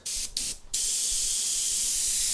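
A steady high hiss of a Gaahleri Seeker airbrush spraying thinned paint, briefly stopping and starting twice before running continuously, close and fairly loud.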